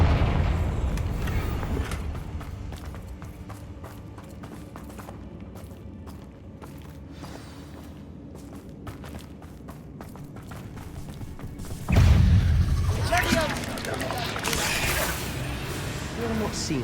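In Hogwarts Legacy on Xbox Series X, the fiery Confringo blasting spell erupts as one loud, sudden burst late in the clip. Before it come quieter combat noises with footsteps and whooshes, and voices speak at times.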